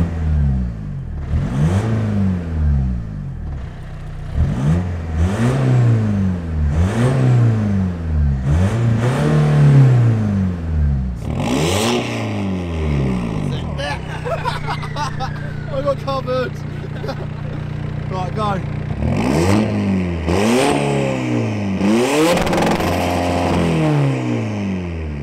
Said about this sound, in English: It's got a high lift Piper camshaft, so in the mornings it does idle like there's no tomorrow.